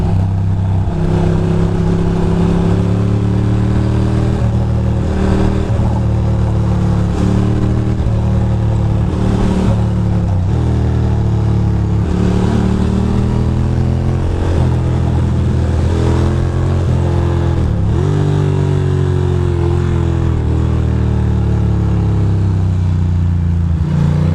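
A BMW motorcycle revs while riding on a road run over the Brooklyn Bridge, loud and continuous, its engine pitch rising and falling through repeated throttle changes under heavy wind rush, with no talking.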